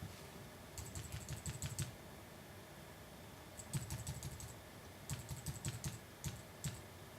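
Bursts of rapid typing on a computer keyboard, including arrow-key presses, come in three clusters of quick clicks separated by short pauses, close and clear with no talking.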